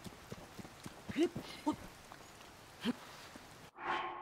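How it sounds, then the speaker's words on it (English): Steady rain in the video game The Legend of Zelda: Tears of the Kingdom patters all around, with a few sharp hoof-like clops breaking through before it shifts into a brief, different whooshing sound at the end. "It's raining. Of course it's raining."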